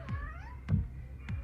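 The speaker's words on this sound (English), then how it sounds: "Sorry about the cat." A house cat meows close by, a couple of short rising-falling calls over quiet room tone, with faint low thumps between them.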